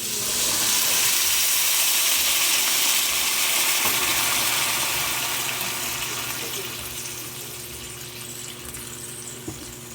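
Water poured into a hot pan of fried fish and tofu on a home stove, a loud hissing sizzle and rush that gradually fades and quiets, with a couple of faint clinks.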